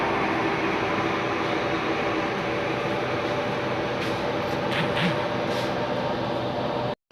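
Steady broadband rumble and hiss inside an air-conditioned passenger carriage of the Tawang Jaya extra train, constant and even throughout, with faint brief knocks and no clear voices.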